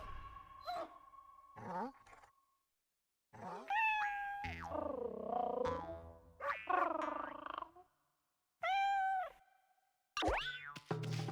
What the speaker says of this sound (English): Pretty kitty, I want to pet the kitty.